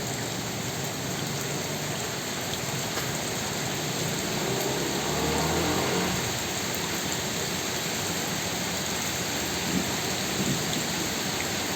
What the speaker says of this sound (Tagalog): Lakas pa ng ulan.